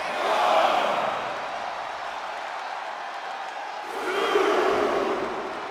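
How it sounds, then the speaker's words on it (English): A raucous arena crowd roars and cheers at a SmackDown wrestling show in the WWE 2K24 video game. The broad roar swells loudly at the start, eases into a steady din, then surges again near the end. "A raucous SmackDown crowd."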